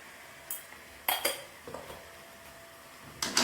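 A spoon stirs dhaba-style mutton curry in a metal pot, giving several sharp, close clinks and scrapes at uneven intervals over a quiet background.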